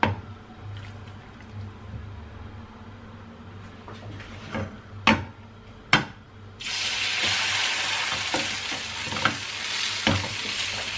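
A grated-cheese and potato mixture fries in a pan with a close, crackling sizzle and occasional sharp utensil clinks; about halfway through the sizzle jumps louder and brighter as it settles into a dense, continuous hiss.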